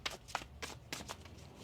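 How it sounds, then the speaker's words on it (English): Tarot cards are riffled and shuffled in a handful of quick, crisp bursts, close and fairly quiet, with no talking over the sound. "One more shuffle here."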